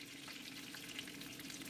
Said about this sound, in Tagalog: Isunod na iprito ang natirang talong at ulitin lamang ang proseso sa pagluluto.